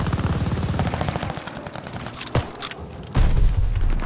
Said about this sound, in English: Ally mortar fire inbound.